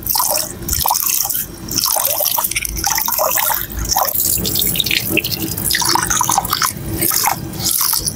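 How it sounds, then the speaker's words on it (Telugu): Water runs and drips from a tap into a vessel as rice is washed by hand, a steady close trickle with small splashy bursts and no talking. "ముందుగా బియ్యాన్ని శుభ్రంగా కడుక్కోవాలి"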